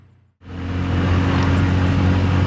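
Bajaj fuel-injected tuk tuk engine while riding, a steady low drone that starts abruptly after a brief silence and holds loud and constant, close up, with no talk.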